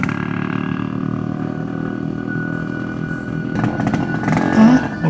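A motorcycle ridden fast gives a steady droning engine hum that grows rougher and louder near the end, with a brief rev.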